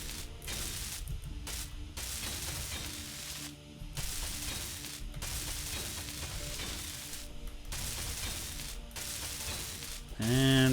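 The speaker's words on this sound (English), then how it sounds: "Time to weld some more." Welding in the game Space Engineers: a steady crackling, sizzling buzz with mechanical ratcheting clicks, broken by short gaps, loud and close, ending in a brief rising electronic tone.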